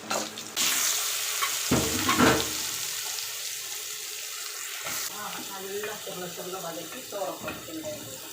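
Sizzling and frying as a rice mixture with turmeric is sautéed in a pan, stirring scrapes steady throughout, with a brief splash of running water near the start.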